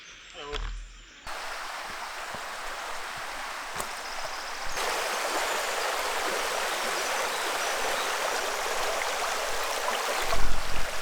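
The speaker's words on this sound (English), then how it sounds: "River water." River water rushes in a steady, broad roar close by on a roadside moto-camping stop, continuous and loud, with a brief voice and some handling noise at the start and end.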